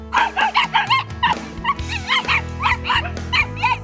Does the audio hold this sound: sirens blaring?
no